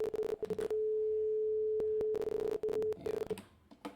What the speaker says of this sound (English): Show me a sine wave.